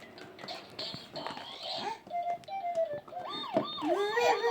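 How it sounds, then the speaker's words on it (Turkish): A toy ambulance siren wails in rising and falling electronic tones, close and fairly loud, after some clattering knocks, with a voice briefly mixed in. "Ambulans sesini açar bir kere."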